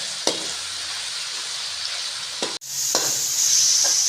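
Onions and tomatoes frying in a pan for a karela dish give a steady, close sizzle, broken by a few sharp spatula scrapes as they are stirred and by a brief dip before the hiss swells again.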